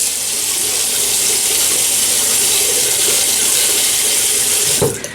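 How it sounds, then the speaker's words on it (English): Water runs and splashes steadily at a sink as a face is wetted after a wet shave, continuous and close, ending in a brief louder splash. "let me just wet my face a little bit"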